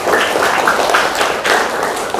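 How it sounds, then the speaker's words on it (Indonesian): Students clap their hands together in a classroom lesson, a loud, dense patter of many hands that continues evenly for a couple of seconds, close and unbroken. "Oke, tepuk tangan untuk Cynthia."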